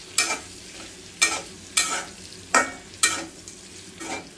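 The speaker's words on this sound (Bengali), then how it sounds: "দিব কিছুটা রসুন কুচি। এখন এইগুলো ভালো করে ভেজে নেব।" Green chillies and chopped garlic frying in a pan, stirred in six sharp scraping bursts at roughly half-second to one-second intervals over a soft steady sizzle, close and moderately loud, with no talking.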